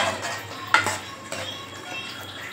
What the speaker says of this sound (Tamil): இப்போ லைட்டாக கிண்டி விடுங்க.